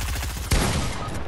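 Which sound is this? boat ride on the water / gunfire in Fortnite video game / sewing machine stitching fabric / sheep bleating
gunfire in Fortnite video game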